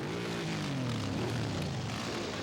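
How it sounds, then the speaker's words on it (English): A propeller plane at an air show roars past overhead, its engine drone sliding downward in pitch as it passes, loud and continuous with no talking. "Dozens of planes roared through the skies west of the megacity."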